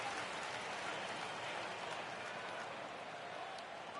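Stadium crowd of about 30,000 in the baseball video game MLB The Show 19 rising to its feet, a dense, steady roar of cheering that fills the whole stretch without pause.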